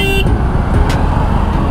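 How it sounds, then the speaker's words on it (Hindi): A single short car horn toot sounds over the steady rumble of engines in a long traffic jam, heard from a motorcycle. "हॉर्न दे दिए इसको"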